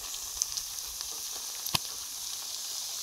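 Thai-style pork barbecue (mu kratha) crackles and sizzles faintly on a hot grill pan, with a steady hiss broken by a few sharp pops, and no talk heard.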